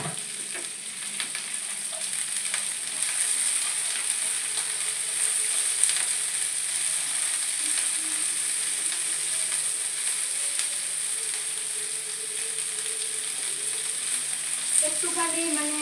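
Carrots and capsicum sautéing in a pan for a cauliflower and carrot curry, a steady close sizzle with a faint hiss running throughout and a brief stir or clatter near the end, no voices.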